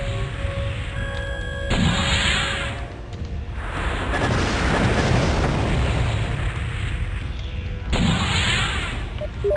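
Missile salvos launch and explode in a mech combat video game, heavy rumbling booms and rolling blasts that swell and overlap across the stretch, with sharp bursts marking new volleys and no talk over them.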